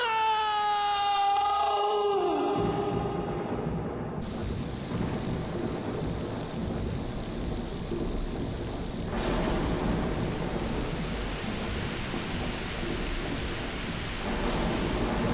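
Heavy rain and rolling thunder fill the end sequence of the Shenmue video game, a loud, steady downpour with deep rumbles, opening under a fading musical tone that cuts out after the first couple of seconds.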